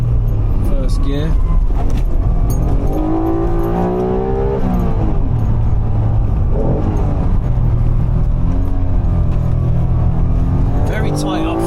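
The engine of a 1991 Honda NSX hums and rumbles steadily from inside the car while driving, with rising and falling revs under someone talking throughout.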